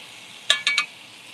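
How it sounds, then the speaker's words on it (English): Peppers frying in oil are stirred, with three quick utensil scrapes and clinks close by over a faint steady sizzle. "Stirring the peppers for the cabbage."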